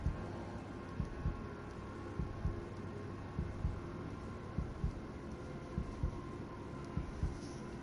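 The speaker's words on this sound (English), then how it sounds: "I'm just gonna hear my heartbeat forever now" A heartbeat sound effect in Resident Evil 3 Remake thumps in soft, regular double beats under a faint hum and airy background.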